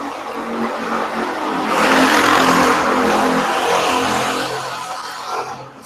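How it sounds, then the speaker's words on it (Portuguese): A motorcycle passes on a street outside, its engine swelling to a loud, broad roar in the middle and then fading away. "Só uma moto aqui."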